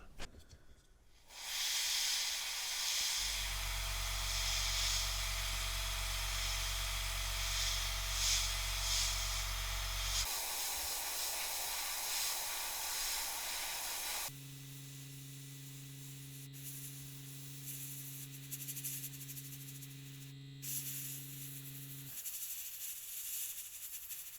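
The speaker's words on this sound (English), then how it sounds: "So we'll get some German grey in the airbrush and get these decks done" An airbrush sprays German grey paint onto the decks of a Revell 1/144 Flower Class Corvette model, a close, steady hiss that runs in long bursts, pausing and changing tone between passes, with a lower hum beneath in places.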